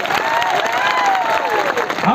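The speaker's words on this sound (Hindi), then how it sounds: "उनके लिए बजाओ तालियां" Crowd applause for Rana Punja Bhil at an outdoor jayanti gathering in Panarwa, dense clapping mixed with cheering while a voice continues over it, loud and sustained.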